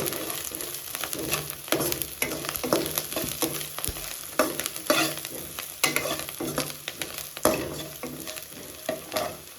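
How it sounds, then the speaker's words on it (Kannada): Green chilli pieces frying in a pan for curd rice tempering, a continuous close sizzle broken by frequent rhythmic spatula scrapes and clinks over about ten seconds, without talk. "ಇದರಲ್ಲಿ ಒಂದು ಮೆಣಸಿನ್ಕಾಯಿನ 2 ಪೀಸ್ ಮಾಡಿಕೊಂಡು ಹಾಕ್ಕೊಳ್ಳಿ. ಹಾಕ್ಕೊಂಡು ಅದನ್ನು ಕೂಡ ಚೆನ್ನಾಗಿ ಫ್ರೈ ಮಾಡ್ಕೊಬೇಕು"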